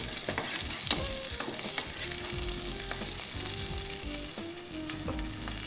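Garlic sizzles steadily in a hot pan, a dense continuous frying hiss with a few soft stirring clicks, close and without talk throughout.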